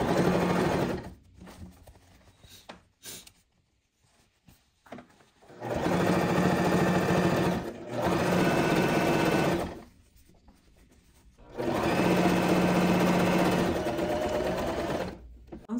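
Sewing machine stitching a seam in bursts, a close, steady mechanical whir of the needle running for several seconds at a time, separated by short pauses and quiet handling noises.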